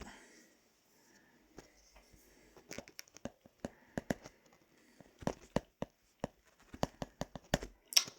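A sheet of paper is torn off a pad in a quiet room, giving a run of sharp crisp snaps and crinkles that grow busier and louder toward the end.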